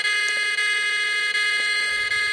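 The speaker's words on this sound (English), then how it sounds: "An alarm is set off." Alarm triggered by a Makey Makey Scratch program, a continuous electronic tone with stacked harmonics sounding alone, steady and fairly loud with only slight dips throughout.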